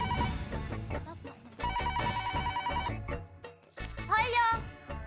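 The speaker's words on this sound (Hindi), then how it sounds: "माँ को फोन करती हूँ" A telephone rings repeatedly in short bursts while a woman calls her mother at home, with talk and background music over the rings.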